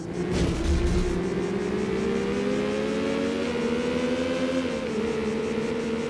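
AI-driven Porsche car engines in the video game Need for Speed: Porsche 2000 on PlayStation drone steadily and rise in pitch as the cars accelerate, a continuous mid-loud engine whine with no talking.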